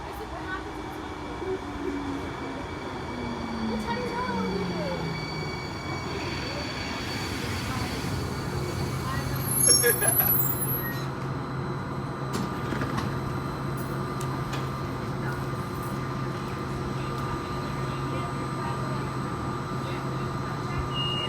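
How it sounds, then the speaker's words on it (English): A Hudson-Bergen Light Rail train rumbles past with a steady mechanical hum and squealing tones, swelling midway as it goes by, heading south. "And here's the train right now."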